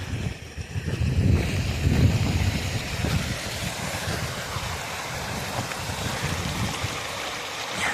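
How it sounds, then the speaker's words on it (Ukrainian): A small stream of water trickles past a weir, a steady outdoor flow with low rumbling and a gusty, wind-buffeted wash that stays fairly even throughout, with no talk. "Водичка тече. Тут чуть-чуть тече."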